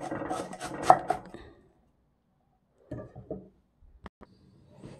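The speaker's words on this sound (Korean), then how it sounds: "아주 가능하면 이렇게 얇게 썰도록 하겠습니다" Knife thinly slicing lotus root on a cutting board, a quick burst of close crisp chops followed by quieter scattered cuts after a pause, with no talking.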